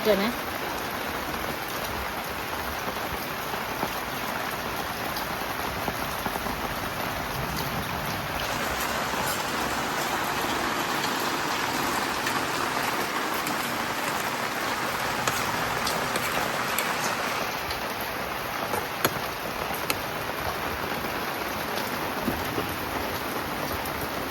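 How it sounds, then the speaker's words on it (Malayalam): Steady heavy rain pours down near a home, a continuous dense hiss that holds evenly throughout, with a brief stretch of louder downpour in the middle. "സൂപ്പർ മഴ കുറച്ച് നേരം നിന്ന് പെയ്തു"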